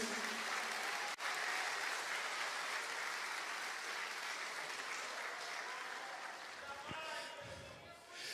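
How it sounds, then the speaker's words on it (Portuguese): A church congregation applauds during a sermon, producing a dense, sustained wash of clapping that slowly tapers off toward the end, with faint voices mixed in. "Você pode aplaudir ao nome do Senhor Jesus?"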